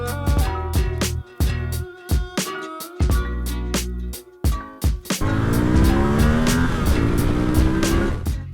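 A Voge DS625X parallel-twin adventure motorcycle is ridden, its engine revving up and dropping back repeatedly in choppy bursts before settling into a sustained, loud, rising drone.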